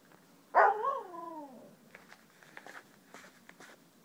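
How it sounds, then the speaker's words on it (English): A puppy at a park yelps once nearby, a high, rising whine-like bark that trails off, followed by faint rustles and soft footstep-like ticks in the outdoor background. "Oh boy, there's a puppy at the park."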